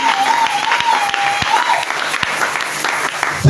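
A church congregation claps together in sustained, dense applause for the Lord Jesus, loud and close, with a sustained vocal tone and crowd voices mixed into the clapping.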